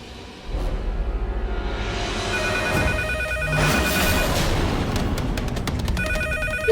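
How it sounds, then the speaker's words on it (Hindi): A landline telephone rings with bright repeated trills inside loud, dramatic television-drama music with booming whooshes and swells, and no voices. "ये पागल खाने वाले लैंडलाइन पे फोन कर रहे हैं।"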